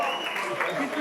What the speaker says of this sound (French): Vous pouvez vraiment les applaudir énormément.